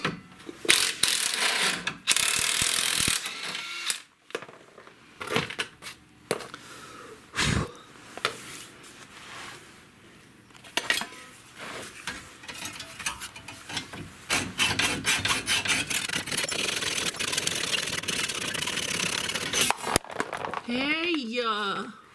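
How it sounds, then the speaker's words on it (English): Hacksaw cutting a stuck bolt on an Audi TT during a transmission swap, with irregular rasping strokes and metallic clicks, moderately close, and voices talking at points throughout. "I might have to hacksaw the bolt off with the nut stuck on it."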